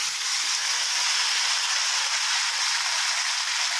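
Bamboo shoots tossed into a hot pan while making a pork cartilage and bamboo shoot soup, giving a loud, steady hiss of sizzling that holds evenly throughout with no talk over it.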